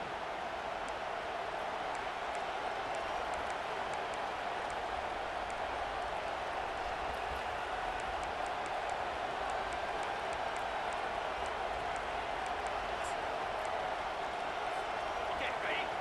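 Stadium crowd at a Florida State vs Miami college football game keeps up a steady, dense roar for the whole stretch, loud and unbroken, with no distinct voices standing out.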